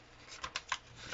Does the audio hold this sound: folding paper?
yes